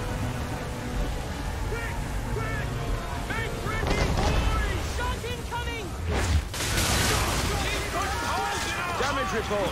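Sailing ship at sea in Assassin's Creed III, with wind and rushing water against the hull running under shouted crew voices, brief louder bursts of spray or cannon impact around the middle.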